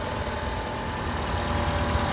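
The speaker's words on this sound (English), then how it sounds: "Okay, with the motor running," A 2014 Toyota Camry engine idles in a steady, even, low hum that sounds close up and unbroken, with no voices.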